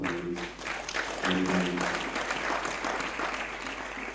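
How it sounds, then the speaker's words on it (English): An audience at a football magazine launch applauds the panelists, a sustained wash of clapping that fills the room, with a voice speaking briefly over it at the start. "a round of applause for the panelists"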